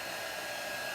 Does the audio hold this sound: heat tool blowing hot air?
yes